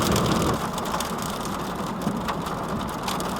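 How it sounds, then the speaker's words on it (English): Freezing rain and hail fall steadily at an Illinois state park, a dense, continuous hiss of pelting drops with sharper ticks scattered through it, close and even, with no voices. "the day we're leaving, it is freezing, rain, and hail"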